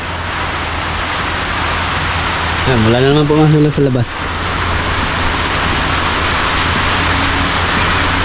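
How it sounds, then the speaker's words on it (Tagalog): Rain falling outside a rural farm area: a loud, steady hiss of rainfall filling the scene throughout, with someone briefly speaking over it midway. "Sabog-sabog sa yung ulan."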